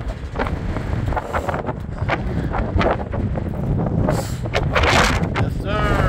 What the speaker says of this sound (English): The wind is blowing out here.